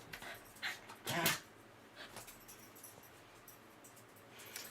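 Oreo, a pet dog, whines and gives a few soft yips and short barks indoors, quiet and intermittent with gaps of near silence between bursts.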